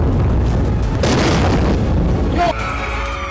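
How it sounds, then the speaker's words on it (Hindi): Iranian hypersonic and ballistic missiles explode over Tel Aviv and Haifa: a continuous loud, rumbling roar of blasts that swells in the middle, then drops after a sharper crack. "ईरान की हाइपरसोनिक और बैलिस्टिक मिसाइलों के विस्फोट से तेल अवीव और हाइफा धधक रहे हैं।"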